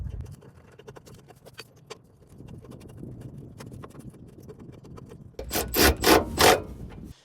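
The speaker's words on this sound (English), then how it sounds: "with these nuts, we're gonna screw that on the end to hold the bracket in" Nuts being threaded and tightened onto a Honda Element running board bracket give light scraping, ticking metal sounds up close, then a few louder rasping bursts of a tool near the end.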